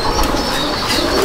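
Fancy pigeons in a home loft in Howrah give a brief burst of cooing amid faint rustling and fluttering, close and moderately loud.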